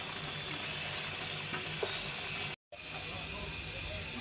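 Spice paste frying in hot oil in a home kitchen, a steady dense sizzle close by with a brief dropout midway, no talk over it.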